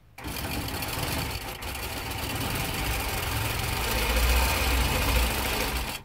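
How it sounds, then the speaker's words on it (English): A Nolting Pro-Series longarm quilting machine stitches binding onto a quilt edge, a steady close mechanical whir with a fast running hum that holds for about six seconds without talk. "Now we're just going to stitch this down a quarter of an inch away from the end of our quilt."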